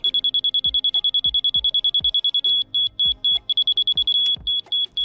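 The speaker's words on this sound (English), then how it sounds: "So once you get that solid beep in there, that's where your level should be." A high electronic beep from a level receiver repeats rapidly, then holds steady in long solid tones with brief gaps, over faint knocking sounds, while leveling a shop floor.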